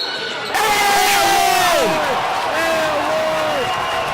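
Basketball crowd at a high school playoff game roaring after a play, dense loud cheering with whistles and shouts sustained throughout, under a commentator's voice.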